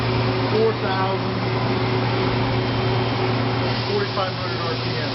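A Mazak Mazatech V10 three-axis vertical machining center, spindle rebuilt, spinning at around 4,500 RPM: a steady close mechanical whine and hum with a low drone, continuous and even, with faint speech in the background.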